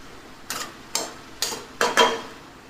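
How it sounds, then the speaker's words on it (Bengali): Bottle gourd with salt and turmeric stirred in a pan for Bengali lau chingri, five distinct close scraping strokes of a spatula at irregular intervals over a faint background. "নুন হলুদ দিয়ে এটাকে খুব ভালো করে কিন্তু নাড়াচাড়া করে নিতে হবে"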